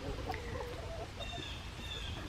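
Chickens cluck and squawk excitedly in a backyard flock, a steady busy chorus of overlapping bird calls close by with no talking.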